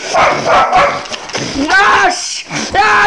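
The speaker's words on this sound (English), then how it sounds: "They have released the dogs!" Welsh Corgi dogs bark and yip in a quick run of sharp, close calls, with a whimpering pitch in places, loud and busy across the clip.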